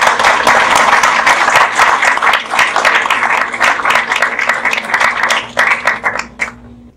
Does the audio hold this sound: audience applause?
yes